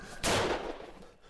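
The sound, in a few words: gunshot from a played video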